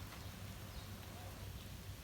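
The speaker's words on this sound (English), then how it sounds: "And it's raining heavily." Heavy rain falls outdoors in Muscat, Oman, making a dense, even hiss throughout, fairly soft in level and without pauses.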